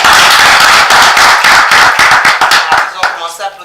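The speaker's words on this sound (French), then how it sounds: "Ils ont commencé à applaudir dès que vous avez dit bonjour." An audience applauds in a television studio, dense, loud clapping from many hands filling the space, then thinning out near the end as a voice starts to speak over it.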